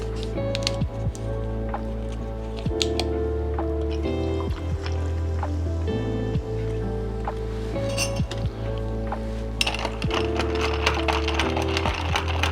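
Sparkling water poured over ice into cucumber lemonade in a glass, then gently stirred, giving soft fizzing, liquid splashes and faint clinks of ice against glass, close and fairly quiet over a steady low hum.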